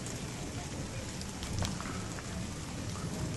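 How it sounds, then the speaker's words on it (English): Steady rain pours during a lightning storm, a dense continuous hiss close by with no clear thunder cracks, broken only by a few faint brief knocks. "More rain, more rain."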